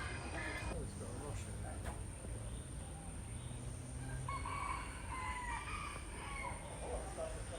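Pheasants and other fowl call at a bird park in Phuket, with crowing and clucking calls rising over a constant outdoor bed of insect-like hiss and general ambience.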